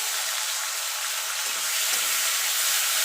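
Prawns sizzle and spit in hot oil while being stirred for a pointed gourd curry, a steady close, bright hiss filling the whole clip without a pause.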